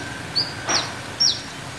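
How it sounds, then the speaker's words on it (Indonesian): Three short, high bird chirps ring out one after another over faint background noise at a quiet corner of Lhokseumawe city, with no talking. "Coba dengar suara burung itu."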